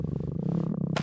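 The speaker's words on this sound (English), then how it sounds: "Purr." A steady, close, rumbling purr with a regular pulsing rhythm, from a cat in an animated garden story, ending in a brief bright high-pitched squeak.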